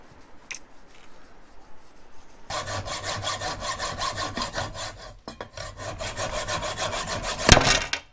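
A hand saw cuts through a piece of wood to shorten it, with rapid, close rasping back-and-forth strokes after a quiet start, one short pause, and a sharp knock near the end.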